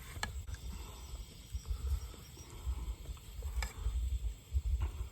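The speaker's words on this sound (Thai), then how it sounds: "เดี๋ยวเราจะมาทอดในน้ำมันนี้กันเลยนะครับ" Pork knuckle deep-frying in hot oil, a faint continuous sizzle with low bubbling bursts and a few sharp crackles, fairly quiet and close.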